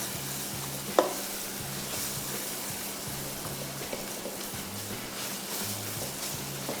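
Fish qeema being broken apart and turned with a spoon in a frying pan, a steady soft sizzle with faint scraping stirs and one sharp clink near the start.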